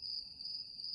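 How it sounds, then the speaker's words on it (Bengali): Crickets chirp on a still village night, a thin, continuous high trill that stays faint and distant with no other sounds. "ঝিঝি পোকার ডাক ভেসে আসছিল দূর থেকে।"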